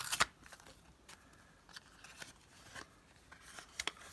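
Close, quiet crinkling and tearing of small plastic packaging around a Samsung 64GB Fit Plus USB flash drive, with a sharp rip at the start and scattered soft rustles after.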